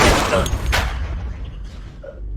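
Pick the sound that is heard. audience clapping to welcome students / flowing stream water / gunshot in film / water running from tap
gunshot in film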